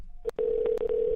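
Telephone call tones sound while a caller is rung back on a call-in advice show: a steady, clear electronic tone broken by a few short clicks.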